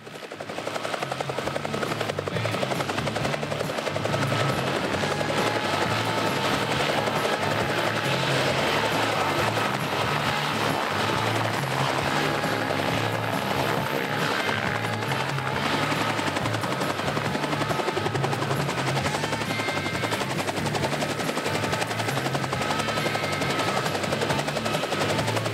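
A Bell 47 helicopter drones close and steady in flight with a constant throbbing rotor chop and engine roar, loud and continuous throughout.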